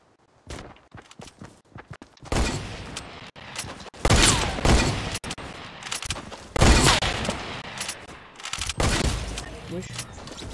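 Video game gunfire aimed at the player, bursts of rapid shots and loud booms coming in clusters, close and harsh, separated by brief quieter gaps with small mechanical clicks.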